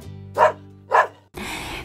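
Two short, close dog barks, evenly spaced, ring out over a tonal hum during children's play with toy farm animals, followed by a burst of broadband noise.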